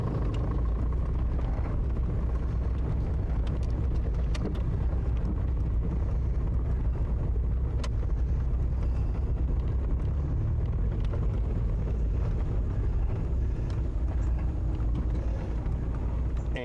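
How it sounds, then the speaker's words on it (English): A Mazda Miata autocross race car pulls away in first gear with light throttle as the clutch is eased out, giving a steady, close, low engine rumble that runs throughout with some wind buffeting and no voices. "I'm going to go and put it in first gear and just get just a little bit of gas, just a little bit, and slowly let the clutch out."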